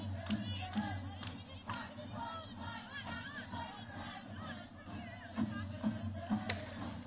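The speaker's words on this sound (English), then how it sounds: "Crowd still singing there in the corner." Football crowd at an Everton women's League Cup match singing, a steady distant chant filling a stadium corner with a dense crowd murmur and a few louder shouts rising over it.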